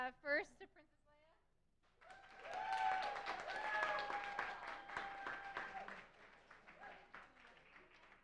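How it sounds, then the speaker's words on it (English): At an Astronomy on Tap science night in San Antonio, an audience claps for a contest winner, and the applause swells after a short spoken line, holds steadily, then thins out with voices and cheers mixed in. "All right, clapping for the winner here."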